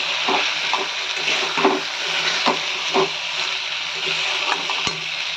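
Spice masala and eggs sauté in a pan with a continuous bright sizzle, while a spoon knocks and scrapes at irregular intervals, close and fairly loud, with no voices.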